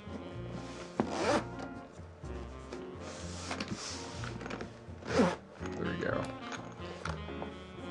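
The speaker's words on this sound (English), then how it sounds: "The zipper doesn't really go very smoothly." A zipper on a carrying case for a keyboard is dragged open in several rough, uneven pulls with scraping and rubbing handling noise, close by, while a person talks over it.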